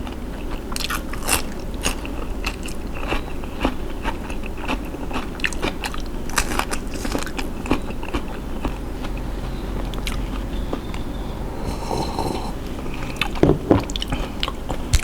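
Close, crunchy bites and wet chewing of raw shrimp fermented in fish sauce, repeated irregular crackles and squishy mouth sounds over about fifteen seconds, no talk.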